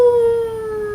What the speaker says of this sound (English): That night he lifted the long wolf howl.